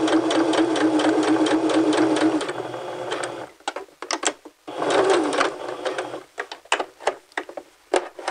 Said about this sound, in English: Do a couple of stitches forward, then back stitch a couple, and sew to the end, to the edge of this fabric